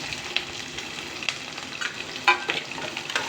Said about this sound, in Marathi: याच्यातच मिरचीचे हे तुकडे टाकणार आहे त्याचबरोबर दोन कांदे जे चिरून घेतलेत ना आपण ते याच्यामध्ये टाकणार आहे